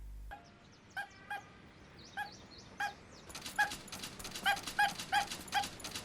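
Robot dog in a Doraemon animated film whimpering and yipping, a string of short high whines that grow quicker and busier toward the end, fairly faint and heard alone.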